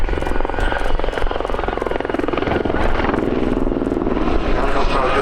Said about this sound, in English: The helicopter I was just talking about is the one heading off now towards the left.